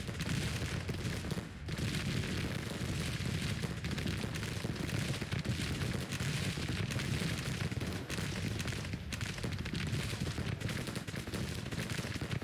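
Dense, continuous gunfire rattles on without pause in a Civil War strategy video game, a steady barrage of distant shots with a brief lull partway through.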